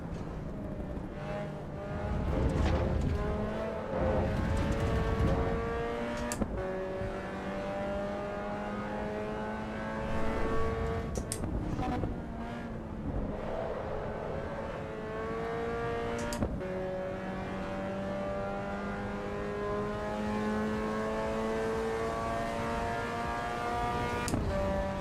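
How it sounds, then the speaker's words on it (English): Race car engine in the video game Assetto Corsa EVO, a steady high revving drone with rising pitch sweeps as the car accelerates through gears, loud and continuous with brief shift breaks and no talk. "The sound is good in this, like the engine sound is a lot better than AC."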